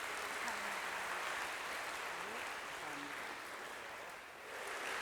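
Hundreds of army trainees clap at a Buddhist ceremony in a large hall, a dense, continuous wash of applause that holds steady for several seconds and dips slightly near the end.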